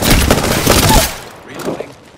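Bursts of rapid automatic gunfire in the Lordus game crackle loudly for about a second, then fade to a few scattered shots.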